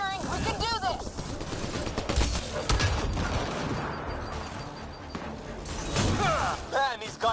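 Gunfire in a PS4 video game, rapid bursts of shots and blasts mixed with whooshing effects, fairly loud and continuous, with voices talking over the action.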